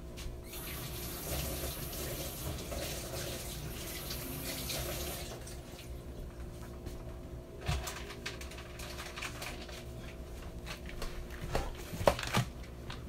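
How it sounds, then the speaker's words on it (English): Kitchen tap water running steadily into a sink while frozen meat is rinsed, a continuous close splashing stream that changes tone partway through, with no talking. "So I'm going to go ahead and rinse it off,"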